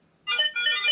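A toy Input Card Gun sounds its electronic jamming beam, a bright buzzing synthetic tone that starts abruptly, wavers briefly and then holds for under a second.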